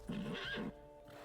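A horse, really a unicorn, in the video game Witcher 3 gives a short, fairly faint whinny with a couple of quick breathy pulses.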